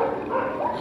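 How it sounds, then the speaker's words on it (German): A chubby, friendly female dog gives a short, whiny bark-yelp up close, a single brief vocal burst with no voices around it. "eine liebe, freundliche, verträgliche, ein bisschen zu dicke Hündin"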